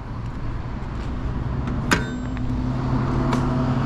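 A large RV passes along a highway beside a roadside e-bike rider, a steady broad road roar that swells slightly as it goes by, with no talking.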